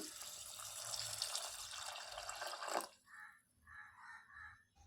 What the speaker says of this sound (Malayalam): കടല മുഴുവനായിട്ടും മുങ്ങി നിൽക്കത്തക്ക രീതിയിൽ വെള്ളം ഒഴിച്ചു കൊടുക്കാം